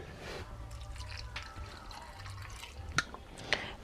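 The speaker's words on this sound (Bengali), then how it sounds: "এবার আমি মিক্সি জারের মধ্যে ভরে নিচ্ছি অল্প করে একটু জল দিয়ে দিচ্ছি" A little water goes into a mixer jar holding raw mangoes: soft, faint trickling and dripping close by, with a couple of small clinks against the jar in a quiet kitchen.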